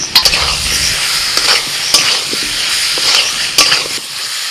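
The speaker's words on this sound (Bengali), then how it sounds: "কিছুক্ষণ মশলা কষিয়ে দিয়ে দিচ্ছি ভাজা আলু।" Fried potatoes are stirred into a spice masala in a pan at an outdoor village picnic, a loud, close sizzle with repeated scraping strokes of a spatula at an uneven rhythm.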